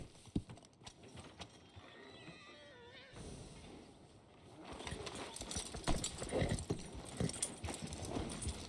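A horse in Red Dead Redemption 2 whinnies, followed by clopping hooves and rustling movement that grow louder, close by with no speech.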